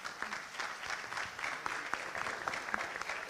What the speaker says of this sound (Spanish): pido un muy fuerte aplauso y bienvenida